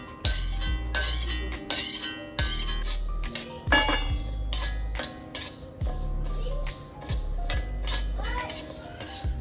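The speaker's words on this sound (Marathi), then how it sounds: "मुगाची डाळ भाजलेली काढून घेते." Roasted moong dal being scraped out of a pan, repeated metallic clinks and scraping strokes of a spoon against the pan, close and irregular, with short pauses between strokes.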